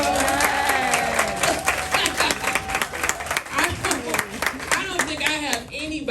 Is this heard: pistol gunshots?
no